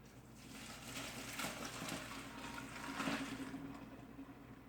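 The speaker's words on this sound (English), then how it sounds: "Now I will drain the water." Pasta cooking water pours and gushes steadily at low volume as it is drained, a soft continuous rush with slight swells, no voices.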